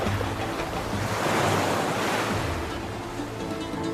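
Sea waves rush together in a loud, continuous surging roar with wind noise, used as a story sound effect, with no voices.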